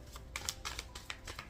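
Tarot cards being shuffled by hand in short, crisp riffling bursts that repeat irregularly, fairly quiet and close, with no talking.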